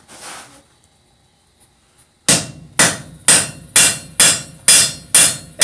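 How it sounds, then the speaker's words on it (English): Blacksmith hammering tongs on an anvil, a fading ring at first, then after a quiet pause a run of about nine loud, evenly spaced metallic blows with ringing decay, close by. "we're just going to work at getting this all nice and squared up. Trying to do it at the anvil"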